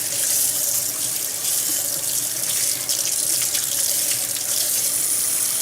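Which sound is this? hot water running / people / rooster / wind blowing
hot water running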